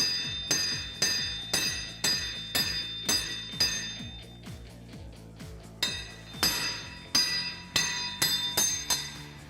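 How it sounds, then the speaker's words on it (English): A hammer taps a brake rotor on a Kawasaki Teryx KRX 1000 in a steady series of metallic strikes, each sharp clang decaying with a bell-like tone, close and fairly loud. "We're going to take our hammer and we're going to tap right there."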